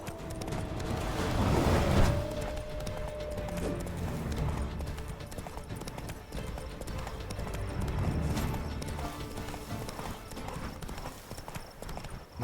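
A horse gallops in The Witcher 3 Blood and Wine, hoofbeats drumming in a rapid, steady rhythm up close, swelling louder at moments over a bed of game ambience.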